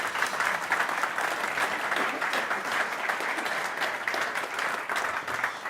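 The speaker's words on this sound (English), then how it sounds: "give her a warm applause" Conference audience gives a warm round of applause after a talk on post-purchase retail logistics, continuous dense clapping heard at a moderate distance for several seconds with no speech over it.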